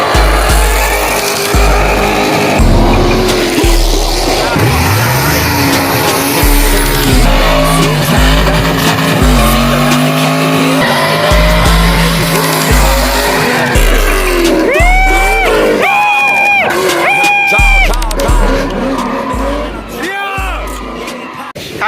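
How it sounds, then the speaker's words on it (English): At a Florida street-drifting car meet, a loud car engine revs hard in repeated surges, then tires squeal in several sharp, wavering bursts, with crowd noise and voices mixed in. "I don't remember my car being that loud."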